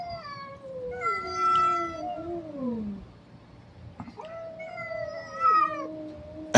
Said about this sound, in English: they're feral cats